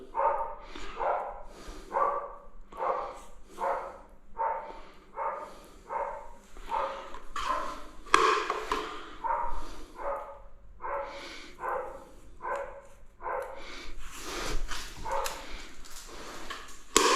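Dogs bark steadily throughout in a rapid series of close, fairly loud woofs, with occasional overlapping yips.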